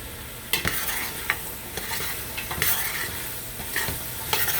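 Garlic, carrots and celery browning in oil in a soup pot make a continuous close sizzle, broken by repeated sharp scrapes and clatters from stirring.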